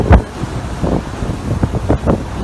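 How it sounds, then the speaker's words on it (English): Gusty wind on the upper deck of the Disney Wonder cruise ship near Key West buffets the microphone in uneven low thumps and rumbles, with a broad outdoor wash in the background. "it's really windy up here right now"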